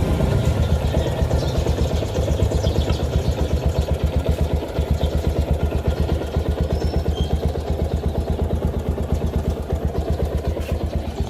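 A 2008 Sniper 135 Classic motorcycle engine idling close by, a steady, even, rapid chugging that holds the same pace without revving for the whole stretch.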